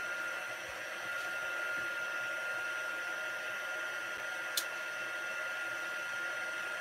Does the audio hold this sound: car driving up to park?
no